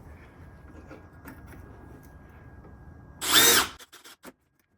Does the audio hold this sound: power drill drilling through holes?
yes